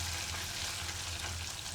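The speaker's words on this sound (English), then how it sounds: "we're going to drop this butter in. There we go. And stir." Butter stirred into hot caramel in a pan taken off the heat, giving a brief, soft, continuous sizzle and bubbling with no one speaking.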